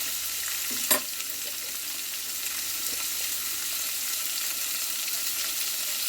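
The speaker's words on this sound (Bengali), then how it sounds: "কুমড়োর ডাঁটাগুলো যেগুলো আছে কুমড়োর শাকে, সেগুলো আমি ভালো করে তেলের সঙ্গে কষাবো" Pumpkin leaf stems sauté in oil with a soft, continuous sizzle and a brief clatter of stirring near the start, otherwise a steady, fairly quiet frying hiss with no talking.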